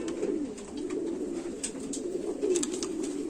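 Low, continuous cooing from a nearby Indian Rampuri pigeon rolls on in a throaty, wavering drone, with faint taps and shuffling noises over it and no one talking.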